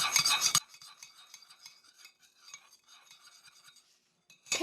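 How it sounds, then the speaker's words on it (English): A spoon stirs vanilla into sweetener and butter in a small cup for a keto chocolate chip cookie, making steady, light scraping and clinking close up after a brief louder knock at the start. "And we want to stir that in well."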